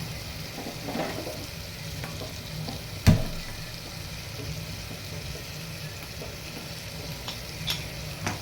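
Chicken sizzles steadily in a hot pan, with occasional scraping and one sharp clank of a spoon against metal.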